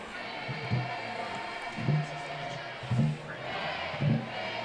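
Crowd noise at a high school varsity football game, Papillion La-Vista Monarchs versus Creighton Prep, a steady broad murmur of spectators with periodic louder swells and shouts roughly once a second, heard at a distance.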